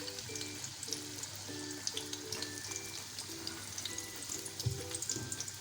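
Chicken nuggets fry in hot oil, giving a steady crackling sizzle with a faint rhythmic beeping tone in the background, close and without speech.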